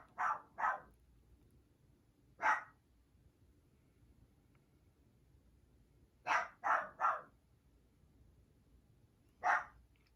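A dog barks indoors in short sharp yaps, two quick barks, a single, then a fast triple and one more, each clear against a quiet room.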